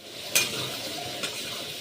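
Prawns and kohlrabi fry in a wok with a steady, close sizzle, broken by two quick scraping strokes of a spatula stirring the pan.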